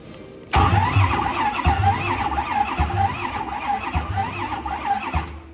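A 6.4 diesel pickup truck engine started by remote crank-runs roughly and unevenly, its low thuds pulsing at an irregular beat beneath a steady high-pitched squeal, loud and close.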